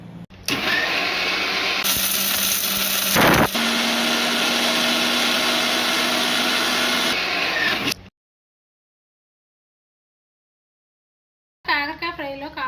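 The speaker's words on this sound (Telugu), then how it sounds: "ఆయిల్ వేడయ్యే లోపల ఈ మసాలాలు మిక్సీ పట్టుకోవాలి." A mixer grinder grinds spices for a bitter gourd fry, a loud close motor whir running for about eight seconds with a brief surge partway, then silence before a voice speaks.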